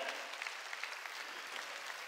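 A church congregation applauding during a sermon, a steady, fairly faint wash of many hands clapping throughout, with no voices standing out.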